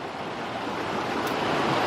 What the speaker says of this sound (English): I hope you can hear me over the creek.